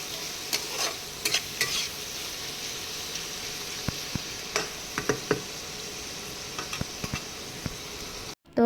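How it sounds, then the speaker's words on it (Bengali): Onions and chopped green chillies fry in a pan with a steady sizzle while a utensil stirs them, giving scattered scrapes and taps over about eight seconds. The sound is close and heard alone, and it cuts off sharply at the end. "আমি ভালো করে পেঁয়াজ আর কাঁচা লঙ্কা কুচি যেগুলো দেওয়া হয়েছিল সেগুলোকে ভালো করে আস্তে আস্তে নেড়ে নেব"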